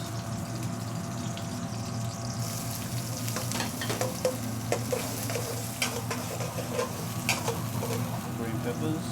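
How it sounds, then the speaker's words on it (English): Onions sizzling and frying in melted ghee in a pan in a real Indian restaurant kitchen, a steady close hiss with stirring scrapes and brief clinks, a low kitchen hum beneath. "let's melt down the ghee"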